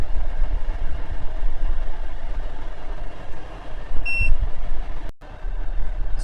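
A 12V OutEquipPro rooftop air conditioner runs in turbo mode with a steady broadband fan whoosh and low hum; a brief electronic beep sounds midway, followed by a short dropout.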